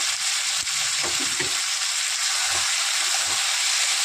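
Onion, capsicum, tomato and green chilli frying in a pan with tomato sauce, a steady close sizzle broken by a few soft stirring scrapes and taps.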